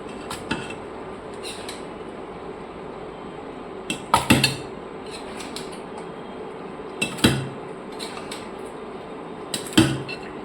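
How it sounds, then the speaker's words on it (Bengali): Mutton is moved into a pressure cooker, metal utensils clanking against the pot in a few sharp bursts over a steady low kitchen hum. "ফাইনালি মাটনটাকে আমি এবার প্রেসার কুকারে শিফট করে নিচ্ছি।"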